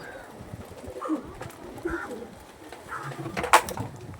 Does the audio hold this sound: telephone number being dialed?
no